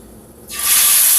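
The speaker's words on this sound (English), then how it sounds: "You want to hear that shh sound when it hits the hot pan." Meat hits a hot skillet to sear, with a sudden loud sizzling hiss that starts from near quiet and holds steady, close and bright, with no talking.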